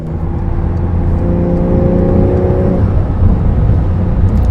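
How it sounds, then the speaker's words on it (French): Porsche 911 Carrera S driving past, a loud, close engine drone with a rising whirring tone that peaks and then drops away into rumbling road noise. "Là, une Carrera S."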